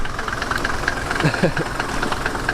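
The diesel engine of an old classic Luton van idles with a steady, close, knocking rumble, while a voice murmurs briefly over it.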